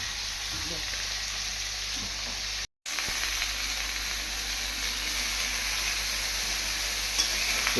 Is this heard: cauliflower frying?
yes